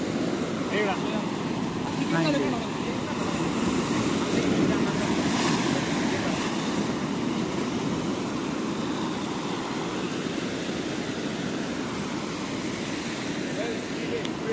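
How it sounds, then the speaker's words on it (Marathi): Ocean waves surge and break on the shore at Ratnadurg Fort, a continuous rushing wash mixed with heavy wind buffeting the microphone, with excited voices calling out faintly over the surf. "लाट आली लाट आली लाट आली"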